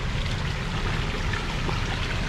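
Waterfalls at a large backyard koi pond in Fraser, Michigan, give a steady, even rush of splashing water, constant and moderately close with no voices.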